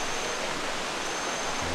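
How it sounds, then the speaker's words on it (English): Rushing water from Kanto Lampo Waterfall in Bali forms a steady broadband hiss, continuous and even, with no voices. "I can hear the running water."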